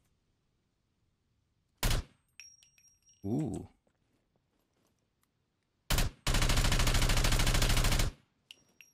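Grenade launcher shots in the survival game SCUM: two sharp blasts a few seconds apart, then after a pause another loud report followed by a dense, sustained burst of rapid fire lasting about two seconds, with a faint exclamation between.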